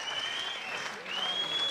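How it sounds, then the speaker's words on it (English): Brief burst of audience applause after a lot sells at a charity auction, steady clapping from a crowd with a high tone running across it. "Give him a big round of applause."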